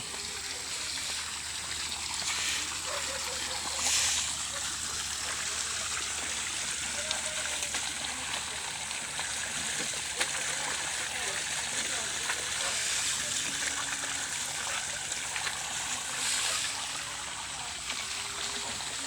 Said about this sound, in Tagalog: lakas ng tubig dito